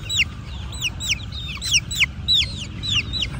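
Young chicks perched on a person cluck and peep close by, sharp repeated calls in an irregular run over a low background murmur.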